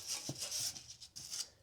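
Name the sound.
brushing rust off Range Rover fuel tank area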